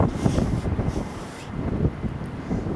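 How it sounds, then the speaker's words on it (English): Strong gusts blow at Newcastle International Airport, buffeting the microphone in loud, uneven rumbling bursts that rise and ease over a few seconds. "Hello from a blustery Newcastle International Airport."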